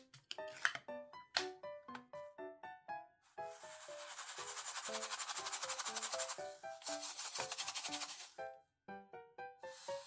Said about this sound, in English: I have loaded up with a lot of spare drills, and we're going to give it a good shake